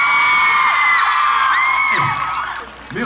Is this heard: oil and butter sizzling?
no